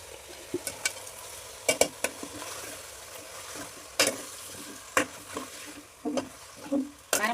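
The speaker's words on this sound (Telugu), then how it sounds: "చికెన్ వేసుకోవాలి ఇప్పుడు." Chicken pieces frying and being stirred in a pan for a home-cooked curry, with intermittent scraping clatters and a soft steady sizzle between the stirs.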